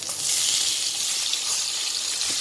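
Chicken sizzles loudly in reheated hot cooking oil, a dense, continuous close frying hiss with no talking.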